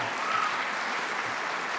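Steady audience applause from a crowd at a nursing leadership event, a dense continuous patter of clapping that stays even throughout, with no clear voices on top.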